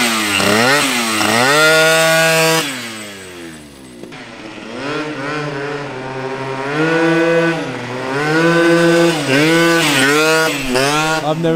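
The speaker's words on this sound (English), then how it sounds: "This bike's so loud." A 72cc Honda Elite Dio scooter with a Polini Corsa kit and a new Arrow exhaust pipe revs loudly and close by, its engine pitch climbing and falling in repeated surges across the whole stretch.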